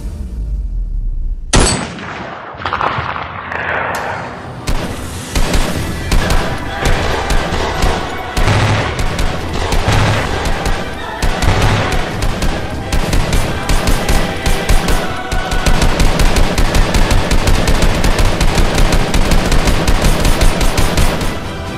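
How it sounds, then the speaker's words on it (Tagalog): Rapid gunfire erupts after a loud bang and continues relentlessly, dense bursts of automatic shots and booming blasts crowding together, close and very loud. "nakarinig sila ng mga sunod-sunod na putok ng mga baril"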